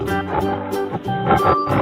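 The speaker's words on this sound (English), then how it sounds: "Tiger." A tiger roars in a 3D animal slide video game, a few loud growling bursts over steady rhythmic game music.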